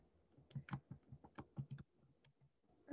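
Fingers type on a computer keyboard in a quiet room, giving a quick irregular run of soft clicks and taps that slows toward the end.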